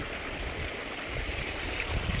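Irrigation water runs steadily through a farm field, a continuous broadband rushing and gurgling wash that stays even and close throughout with no voices.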